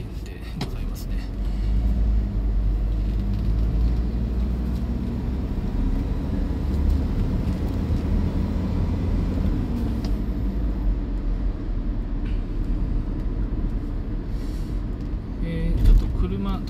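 A faulty truck's engine drones steadily while driving through Higashimatsuyama, Saitama, with a continuous low rumble and road noise throughout and a brief louder swell near the end.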